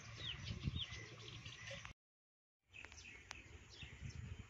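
Domestic pigeons on a hot afternoon coo softly amid other bird chirps. The calls carry steadily with a short silent gap midway, then resume at a moderate, slightly distant level.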